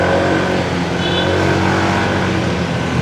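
A motorcycle engine revs hard and close for a few seconds, a loud, continuous throaty roar with no voices over it.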